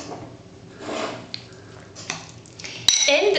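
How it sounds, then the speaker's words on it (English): A spoon scrapes and clinks in a bowl as avocado, prawns and mayonnaise are gently mixed into a salad, giving soft squishy stirring with a few sharp metallic taps near the end. "we mix delicately all the ingredients inside"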